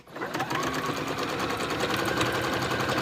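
A sewing machine runs at speed, quilting a zipper pouch with a waterproof lining, its fast, even stitching rattle loud and close throughout.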